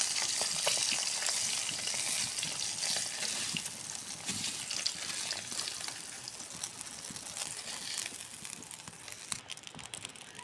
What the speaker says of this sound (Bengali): মাছটা আমাদের ভাজা হয়ে গেছে, আমরা তুলে নিচ্ছি।